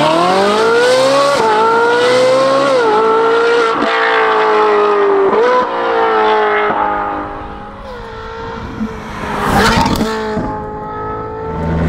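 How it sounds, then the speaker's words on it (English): An expensive Ferrari with a naturally aspirated V8 drives on the Autobahn, its engine loud and close, pitch rising through gears with several shifts and dips, steady wind and road roar beneath, no talk. "we're driving on an Autobahn with a very expensive Ferrari"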